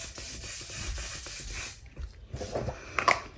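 Makeup setting spray mists out in a couple of close, hissing bursts, the first longer and steadier, followed by brief rubbing and handling noises.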